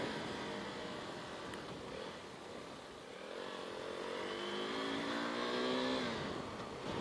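A KTM RC 390 motorcycle engine revving off-road, its loud, steady drone climbing in pitch through several rising sweeps before easing off near the end.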